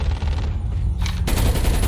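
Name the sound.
gunfire in a video game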